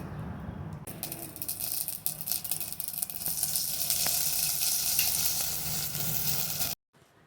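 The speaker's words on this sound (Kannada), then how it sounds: "ಎರಡು ಸ್ಪೂನು ಎಣ್ಣೆ ಬಿಸಿ ಮಾಡಿಕೊಂಡು ಸಾಸಿವೆ ಮತ್ತು ಕರಿಬೇವು ಹಾಕಿ ಒಗ್ಗರಣೆ ಮಾಡ್ಕೊತಾ ಇದ್ದೀನಿ" Mustard seeds and curry leaves sizzling in two spoons of hot oil in a pressure cooker for sambar, a steady, close hiss and crackle with scattered sharp pops, ending abruptly.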